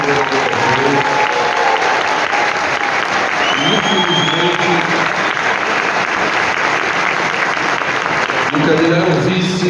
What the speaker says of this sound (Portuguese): a gente dá uma salva de palmas